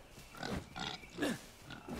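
Several pigs grunt and oink in short bursts in Far Cry 5, close and fairly loud. The squeals and snorts come in irregular succession, with no talk over them.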